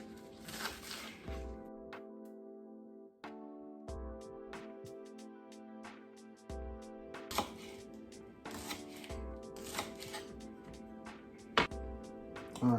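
Green onions chopped with a knife on a cutting board while preparing venison chili, a series of sharp, close, evenly spaced cuts in bursts with short pauses between.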